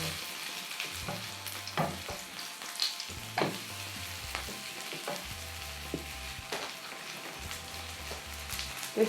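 Korean vegetable pancake (yachaejeon) frying in oil in a pan just after being flipped, a steady close sizzle with crackling pops and occasional scraping clatter, no voices.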